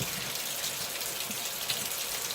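Hot water runs steadily from a tap while a Keurig coffee machine is cleaned of white mineral deposits, a continuous close hiss and gush with no talk.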